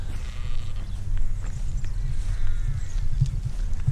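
Texel sheep and lambs bleating outdoors on a farm walk, with a few calls rising over steady wind rumble and low background noise, no talk.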